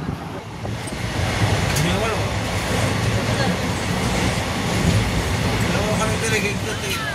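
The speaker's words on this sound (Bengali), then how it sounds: "আমি এই মুহূর্তে রয়েছি ট্রেন নাম্বার 13427 সাহেবগঞ্জ ইন্টারসিটি এক্সপ্রেসে।" Inside the Sahebganj Intercity Express, train 13427, running between Bandel and Rampurhat, a steady loud rumble of the moving carriage continues throughout, with faint rattles and a voice speaking over it.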